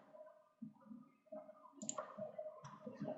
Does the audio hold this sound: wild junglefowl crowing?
no